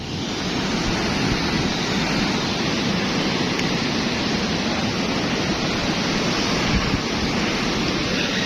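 Loud, continuous roar of storm surf from Typhoon Kristine crashing without pause, broadband and wind-blown, with no voices over it.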